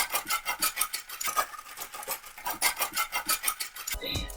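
Rapid, rhythmic rasping and rubbing as a Dollar Tree plastic brush storage container is handled, a dense scraping texture repeating steadily for several seconds, ending with a louder knock.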